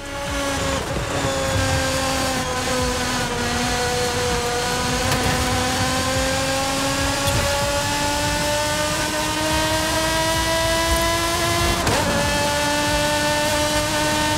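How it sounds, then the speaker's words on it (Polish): An Italian exotic car in Forza Horizon 5, its engine roaring loud and close at sustained high revs, the pitch climbing steadily with brief dips at gear changes, no voices. "Wow, jaka wydzierajka z tego auta."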